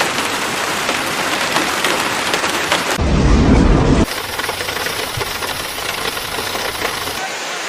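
Heavy rain pours down in a dense, continuous roar during a thunderstorm, with a deep rumbling surge of thunder midway that swells louder for about a second before the downpour continues alone.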